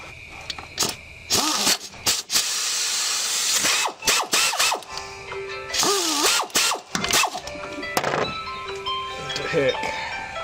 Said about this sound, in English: I'm gonna loosen the 14 bolt and get this bracket out of the way.